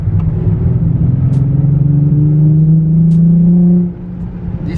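Nissan 350z engine running rough with a misfire, giving a steady low rumble that holds close and loud for several seconds, then drops off slightly near the end.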